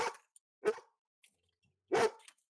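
A puppy barks in three short, sharp yips spaced apart, fairly close but not loud, with quiet gaps and faint small noises between the barks beside a pool.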